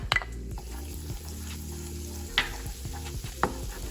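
Garlic, freshly chopped, sizzling in melted butter with a little olive oil: a steady, low frying hiss throughout, broken by a few sharp clinks and scrapes of a utensil stirring the pan.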